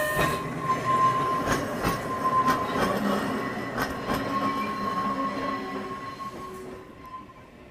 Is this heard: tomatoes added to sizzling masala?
no